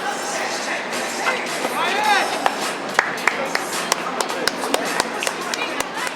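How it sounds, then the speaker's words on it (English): A few people clap in sharp, separate bursts at Citi Field during a baseball game, with steady crowd noise and nearby chatter underneath. "Applause from my mom"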